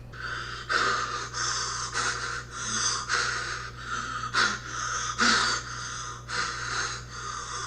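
Heavy, rasping breathing from a Halloween sound-effects collection, a steady run of harsh panting inhales and exhales with snort-like bursts, close and continuous for several seconds, no talking.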